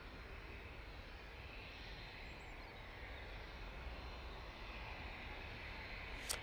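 An SAS Embraer Phenom jet approaches to land, its engine a steady, faint, distant drone that fills the whole stretch without a break and without voices.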